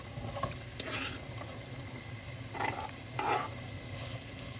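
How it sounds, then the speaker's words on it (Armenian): Diced onion sizzles in a little vegetable oil as a quiet, even fry, with a few brief soft stirring scrapes; no talking. "Սոխը համարյա տապակվել է"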